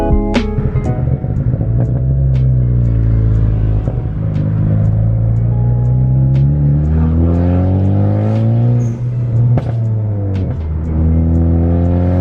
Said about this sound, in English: So we're gonna go for a drive.